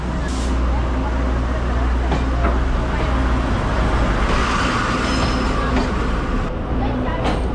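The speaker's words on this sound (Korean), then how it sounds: "기차가 들어오고 있습니다." A train rumbles in with a loud, continuous low roar and rattling, some brakes squealing faintly above it, with voices in the background, in Taiwan.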